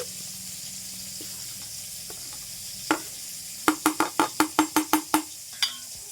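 Whole fennel spice mix is stirred into cold oil for mango pickle, with quiet scraping at first and then a quick run of sharp, evenly spaced clinks from a utensil against the vessel.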